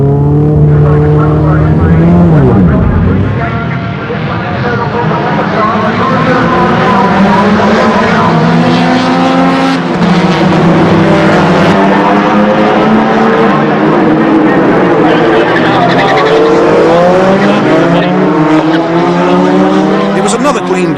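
Race cars at Thruxton circuit in 1989 scream past as a pack, engines rising and falling in pitch as they sweep by. The engine noise is loud and continuous, and a voice narrates over it.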